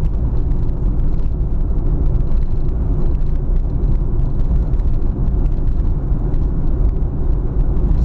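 A 1986 Renault Supercinq TC with its 1.0-litre 42 hp engine drones steadily on the road, a loud, even low engine and tyre rumble running unbroken throughout with no voices.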